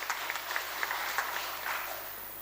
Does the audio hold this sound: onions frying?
no